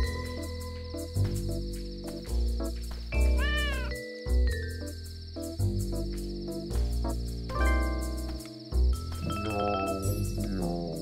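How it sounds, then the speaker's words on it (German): Momo the cat in the video game Dave the Diver gives a few short meows between loud chiming, jingling game music that dominates the clip. "Das ist Momos Miauen."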